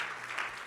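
A church congregation claps in applause during a French-language worship service, a dense, steady patter of many hands filling the room at moderate volume with no speech over it.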